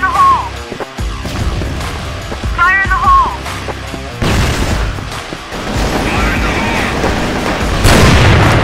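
Flash bomb detonating in the CrossFire shooter game, a loud sharp burst amid continuous gunfire and game effects, with a voice calling out over the action.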